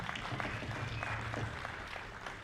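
An audience at a jazz ensemble concert applauds for the tenor sax player, a dense, steady patter of many hands clapping that holds across the whole stretch, with no speech over it.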